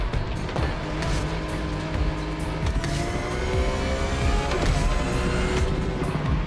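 A car corners hard in the racing video game Motorfest, its engine revving up and down in rising and falling sweeps, with tire noise under a dense, steady mix of game sounds.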